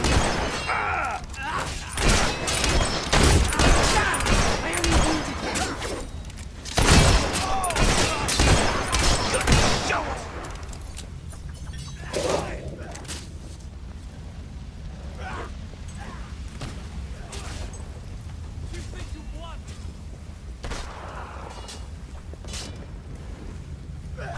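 Gunfire in the video game Fable 3: a dense burst of rapid, loud shots for about ten seconds, then scattered single shots and thuds over quieter ambience.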